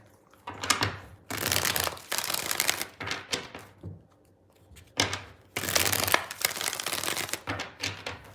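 Tarot cards are riffled and shuffled by hand in two long, crisp bursts of rapid flicking, each lasting a few seconds, with a brief lull between them, close and alone.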